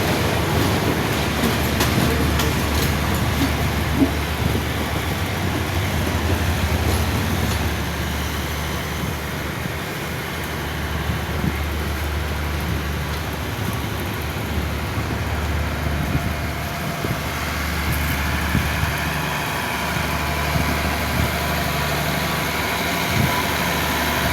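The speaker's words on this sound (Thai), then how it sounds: "ขบวนรถด่วนพิเศษทักษิณที่ 37 37 จากกรุงเทพอภิวัตรปลายทางสุไงโกรก" The Thaksin special express train no. 37 from Bangkok Apiwat to Sungai Kolok rumbles past at length, a steady loud roar with low engine drone and faint rail clatter throughout, with no voices.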